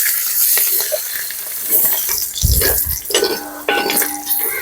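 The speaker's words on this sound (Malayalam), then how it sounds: "കുറച്ച് ഇഞ്ചി നമ്മൾ നീളത്തിൽ അരിഞ്ഞു വെച്ചാണ് അത് നമുക്ക് ഇട്ട് കൊടുത്തൊന്ന് ആദ്യം ഒന്ന് അതൊന്ന് റോസ്റ്റ് ചെയ്തെടുക്കാം" Lengthwise-sliced ginger and garlic roasting in hot oil crackle and sizzle up close, mixed with clinking spoon and pan scrapes and a ringing metal tap near the end.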